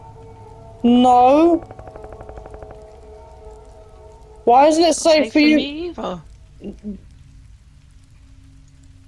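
Rain falls steadily on a surface in a horror video game map, a soft continuous patter running the whole time under loud bursts of conversation between players.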